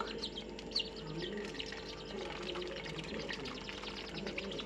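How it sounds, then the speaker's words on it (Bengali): Sandy water trickles and pours softly while baby birds are bathed, with faint chirping and tweets around it, quiet and close. "এখন একটু আমরা বালু পানি দিয়ে ওদেরকে গোসল করিয়ে দেব"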